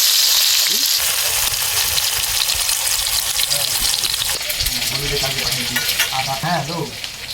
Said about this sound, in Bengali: প্রথমেই আমি কড়াইতে তেল দিয়ে দিলাম, কিছুটা পেঁয়াজ কুচি দিয়ে দিলাম।